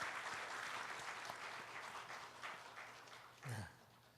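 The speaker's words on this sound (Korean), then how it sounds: "우리 인사드릴 때 박수로 축하하겠습니다." A church congregation applauds newlyweds during a Sunday service, a soft, distant wash of steady clapping throughout, with a brief low thump near the end.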